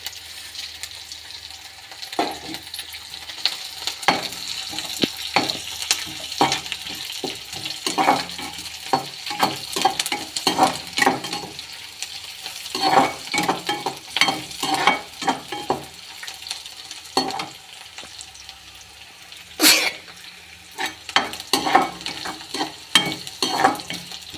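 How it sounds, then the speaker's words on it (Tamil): Onions and dry red chilies fry in a pan, a steady sizzle broken by frequent scraping stir strokes and occasional clinks, close and fairly loud with no talking. "வெங்காயம்லாம் நல்லா பொறிஞ்சிச்சு"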